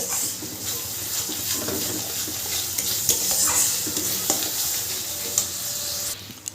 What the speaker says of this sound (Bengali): পোস্ত বাটাটা দিয়েও একটু নাড়াচাড়া করে নেব যাতে পোস্তর কাঁচা গন্ধটা না থাকে